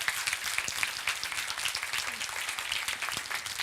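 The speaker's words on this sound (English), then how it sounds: "I would like to say a big applause to all the teams who came the long way" Conference audience in Vilnius clapping for the participating teams at a social business event, a fairly quiet, steady patter of many hands that continues evenly throughout.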